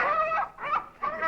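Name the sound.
chicken clucking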